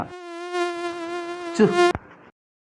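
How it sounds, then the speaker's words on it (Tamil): A high, thin mosquito whine hums steadily up close, then cuts off abruptly near the end, leaving silence. "கொசு கடிக்க ஆரம்பிச்சிச்சா?"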